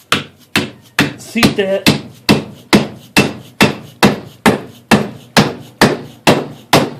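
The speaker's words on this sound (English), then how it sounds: "we've got it tapped ready to go, just going to take a dead blow hammer and" A dead blow hammer tapping a wooden wedge into an axe handle: a long run of sharp, evenly spaced, loud thuds, about two per second, with a brief spoken phrase early on.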